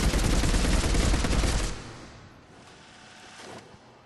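Revenant assault rifle firing full auto in Mass Effect 3, a dense, loud continuous burst lasting under two seconds, then a quieter tail with distant game ambience.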